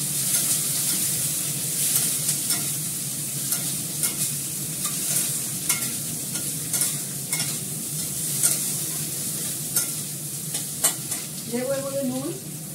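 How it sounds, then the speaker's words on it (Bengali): Brinjal and potato curry is stir-fried in a hot pan, giving a steady close sizzle broken by repeated scraping stir strokes, with a brief squeaky scrape near the end. "বেগুনটা দিয়ে দিলাম, আলুটাও দিয়ে দিলাম। এটাকে ভালো করে কষাবো।"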